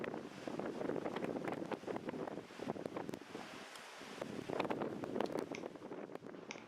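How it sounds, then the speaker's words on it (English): Strong wind buffets the microphone in a continuous roar at a harbour in Scotland, with surging tide and surf washing underneath, loud and unbroken throughout. "purely because the wind was so strong, and here you can see it's surging the tide into the harbour"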